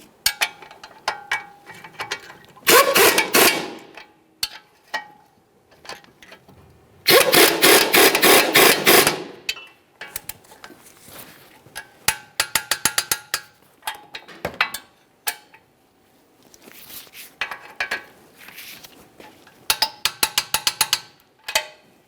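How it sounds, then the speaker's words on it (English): A ratchet clicks rapidly while tightening the two 18mm strut mounting nuts on a 2013-2015 Chevrolet Malibu during front strut and spring replacement, loud bursts of ratcheting with pauses and lighter clicking between them. "Now we can start on each of those two 18mm headed mounting nuts."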